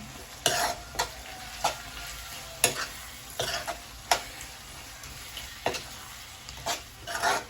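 Tomatoes frying in a pan for a quick homemade biryani, stirred with a utensil, giving a steady close sizzle broken by repeated sharp scraping and clinking strokes roughly every half second to second.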